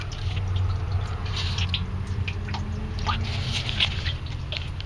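Water drips and trickles into the bilge drain of a 1986 Grady-White Seafarer 22 boat, irregular small splashes close by over a low steady hum.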